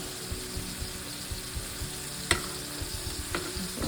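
Chicken pieces browning in olive oil in a skillet give a steady, close sizzle, with faint clinks of stirring and one sharp utensil tap. No one speaks.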